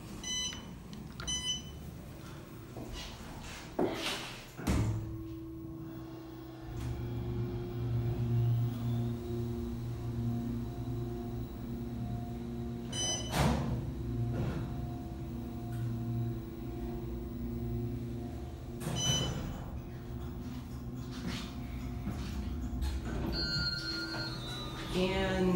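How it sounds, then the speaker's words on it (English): An Otis hydraulic service elevator at a college library in Orange City, Iowa, runs its motor as a steady, sustained hum for about twenty seconds after a few clanks, with occasional sharp clicks and beeps. "That was the best motor I've ever heard."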